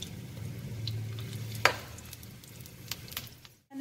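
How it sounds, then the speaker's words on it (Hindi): Bitter gourd frying in a pan on low heat gives a soft, steady sizzle with occasional stirring scrapes and one sharper clack of a spoon against the pan, close by. "अब मैं इसको 7 मिनट फ्राई करूंगी, पहले थोड़ी देर हल्की आंच पे, फिर 5 मिनट जो है इसको तेज आंच पे"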